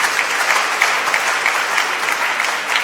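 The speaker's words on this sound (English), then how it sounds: "a round of applause to the 4 contestants again" An audience at a live innovation competition broadcast applauds the four contestants, a steady wash of close, continuous clapping lasting a few seconds.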